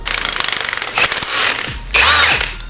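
A 1/2 inch drive impact wrench with a 5/8 socket hammers loose the single 7/16 bolt holding a shock shaft piston, giving a rapid rattling burst followed by two louder, harsher bursts, close and alone.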